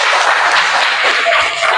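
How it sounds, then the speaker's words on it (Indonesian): Students in a school classroom applaud a group after a lesson discussion, a loud, continuous burst of clapping close by that runs the whole short stretch. "Kasih tepuk tangan dulu untuk"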